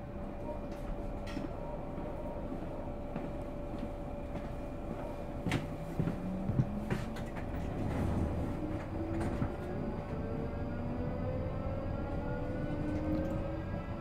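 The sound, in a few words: passenger train ride, London Waterloo line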